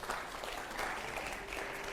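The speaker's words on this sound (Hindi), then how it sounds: "अगला सवाल के लिए जोरदार तालियां हो जरा" A studio audience at a Hindi quiz-style debate on a Buddhist religious leader claps loudly, a dense, continuous burst of many hands lasting two seconds without pause.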